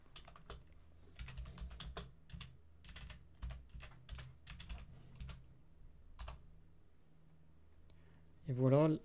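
Typing on an English-layout computer keyboard, with irregular bursts of close, crisp key clicks and short pauses, while a person speaks quietly in the background.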